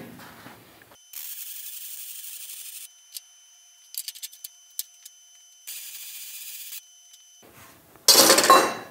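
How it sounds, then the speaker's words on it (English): Steel hinge bracket of a spare tire carrier being welded: two sustained bursts of bright, steady crackling hiss, separated by quiet gaps with brief clicks and ticks, followed by a loud harsh burst at the end. "we could probably finish also welding up the hinge bracket as well"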